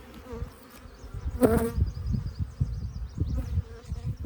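Honeybees buzz steadily around an open Top hive frame as it is shaken off during a swarm check, a dense insect drone with a brief louder rustle and thump of the shake midway.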